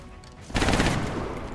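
Short burst of automatic gunfire from the tactical game XCOM: Enemy Unknown, a loud dense rattle kicking in suddenly and sustained to the end.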